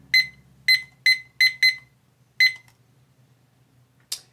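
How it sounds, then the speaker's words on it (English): A flight gear timer for pilots sounds its audible alarm as a series of sharp electronic beeps, five in quick uneven succession followed by one more after a pause, loud and close against a faint hum. "Once it gets to the bottom, you'll have the red light as well as the audible alarm."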